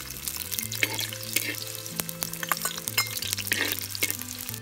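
Chopped shallots frying in hot oil for a village-style spicy farm rabbit curry, giving a steady close sizzle with scattered crackles and faint stirring scrapes, mixed with low tonal background music and no talk.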